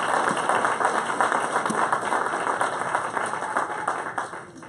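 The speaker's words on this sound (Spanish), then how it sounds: "Un aplauso a la familia Castro y a la familia Gómez." Applause from a church congregation, dense and continuous clapping that stays steady and fades slightly at the end, heard a little distant in the room.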